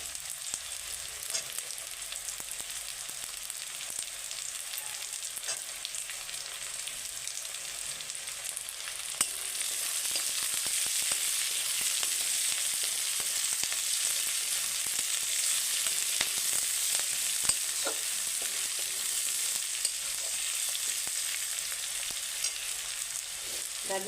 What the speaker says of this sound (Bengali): প্রথমে আমি পেঁয়াজের সঙ্গে গাজরটাও দিয়ে দিচ্ছি ভাজা হয়ে যাবে